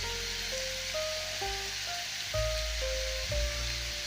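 Chicken liver and pepper dry frying in a pan give a constant hissing sizzle, heard under a simple stepped melody of background music.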